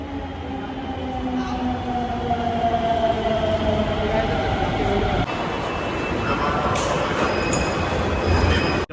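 A Delhi Metro Pink Line train runs along the track with a steady loud rumble and rising motor whine, joined near the end by high wheel squeal, heard from close by.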